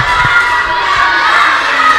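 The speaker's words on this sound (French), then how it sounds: "Alors la foule qui crie de toute leur force pour encourager les Lions." A tournament crowd shouts at full strength to cheer on the Lions team, a dense, loud, continuous roar of many voices with excited cries throughout.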